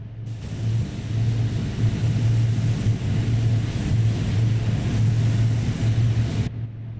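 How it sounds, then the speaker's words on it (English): Two and three engines of a C-130 Hercules turboprop spinning up in a flight simulator, a steady loud rumbling drone with a pulsing low hum holding throughout. "whilst engines 2 and 3 are starting up"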